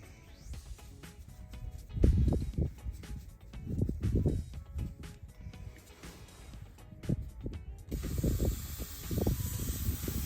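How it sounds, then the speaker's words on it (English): Refrigerant hisses out in bursts as an A/C hose is bled on a 2016 Kenworth T680 truck with a Cummins ISX 15, irregular close spurts of gas with faint mechanical clicks between them. "We're gonna bleed bleed the hose out after we open this line up here."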